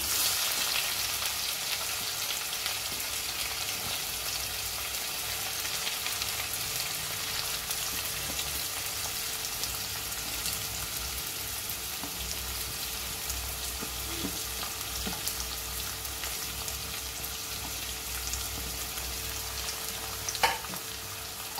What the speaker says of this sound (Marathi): आणि हा कांदा आपण छान ह्याच्यामध्ये परतून घ्यायचा आहे।